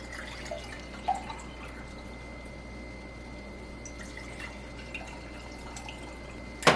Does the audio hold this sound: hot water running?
yes